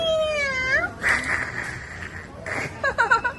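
A cartoonish black cat in a video game meows, with a falling synthetic meow at the start and more cat-like cries later, loud and close against light game background sound.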